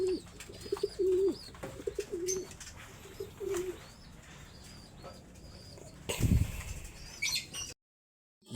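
Pigeons coo in low repeated pulses near a backyard loft, with faint chirps and bird calls in the background and a brief rustling thump near the end.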